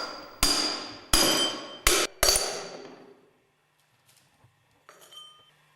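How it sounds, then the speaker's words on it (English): Grooved ball bearings are driven out of a Westfalia OSD18 clutch drum resting on a wooden support, four sharp metallic hammer blows ringing out close and loud, followed by faint clinks and quiet. "Drive the grooved ball bearings and the distance bush out of the clutch drum."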